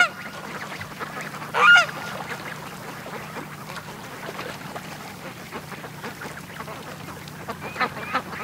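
A few short duck quacks ring out near the start, faint against a steady outdoor hum. Scattered quieter calls follow.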